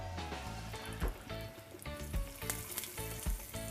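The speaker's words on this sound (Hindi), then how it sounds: "अभी इसको इसमें डाल देंगे तड़का को." Hing and curry leaves hit hot oil for a tadka, giving a close, crackling sizzle with sharp popping bursts that spatter irregularly throughout, no voices.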